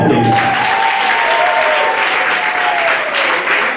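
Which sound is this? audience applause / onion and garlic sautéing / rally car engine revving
audience applause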